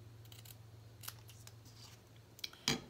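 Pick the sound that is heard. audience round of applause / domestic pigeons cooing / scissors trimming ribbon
scissors trimming ribbon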